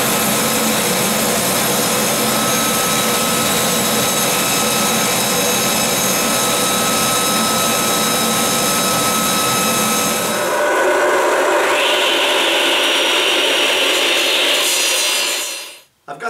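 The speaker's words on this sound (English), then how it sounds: "I'm going to take some quarter inch hardboard or MDF, whatever you want to call it, and I'm going to cut it to dimension" A saw rips a sheet of quarter-inch hardboard (MDF) to width, a loud, steady rasping cut that runs for about ten seconds, changes pitch as the blade finishes the pass, then spins down and stops.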